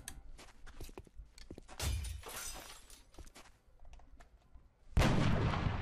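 A gunshot in the turn-based tactics game XCOM: Enemy Unknown comes through amid shattering, crackling game effects, ending in a loud sudden blast with rumbling noise after it and no talk.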